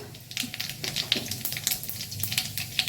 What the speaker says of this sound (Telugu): ఆయిల్ వేడైంది కొంచెం ఆవాలు జీరా